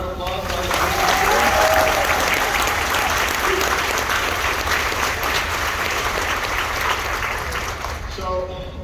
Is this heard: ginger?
no